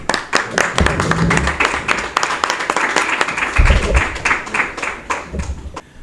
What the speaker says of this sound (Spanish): os pido un gran aplauso para Manuel Bejarano y Julio Pérez Ruiz.